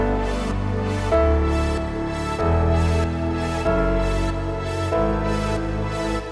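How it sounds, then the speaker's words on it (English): Big LFO-driven synth layered with piano in Mainstage, its tone pulsing and sweeping up and down in a steady rhythmic wobble over held chords, loud and without voices. "I've got an LFO set to program to sweep up and down, and it just sounds really huge"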